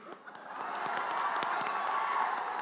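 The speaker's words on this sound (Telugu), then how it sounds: "చప్పట్లు కొట్టు" A crowd at a film pre-release event in Telugu cinema claps and cheers in a steady, dense wash of applause with scattered whoops, sustained throughout at moderate distance.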